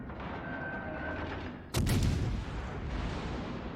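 Ship guns on the destroyer Acasta fire a salvo in a naval combat game, one sudden loud broadband blast about halfway through, followed by a rumbling decay over a steady background of game noise.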